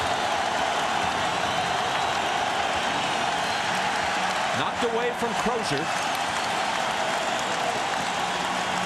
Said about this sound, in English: The crowd is in it.